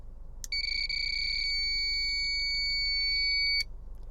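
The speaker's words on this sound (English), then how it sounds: "so you can hear the beeps" Speed radar unit beeping while acquiring a vehicle's speed, a sharp click followed by a sustained loud electronic double-tone beep lasting about three seconds that stops with another click, no talk.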